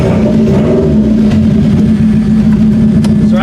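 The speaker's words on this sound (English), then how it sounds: "Let's try starting this car." Demolition derby car with a dead battery and a rewired gas tank, its engine running loud and close in a steady, rough mid-pitched drone with slight revving swells throughout, nobody talking.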